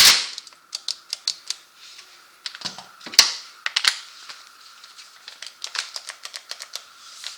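Old electric impact gun working on a Can-Am Outlander XMR ATV bolt, firing a rapid series of sharp, close rattling bursts and clicks, with a few heavier thuds in between and no talk.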